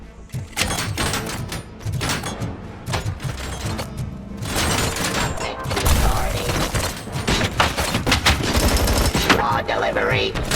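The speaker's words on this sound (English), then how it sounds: "This gun would be better as a single shot." Rapid automatic gunfire from a weapon in RoboCop: Rogue City rattles in loud, dense bursts with brief gaps, layered with mechanical clanks and impact thuds.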